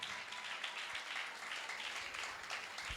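A church congregation claps together during a Hindi-language worship service, a soft, steady wash of applause heard from a distance that carries on evenly for a few seconds.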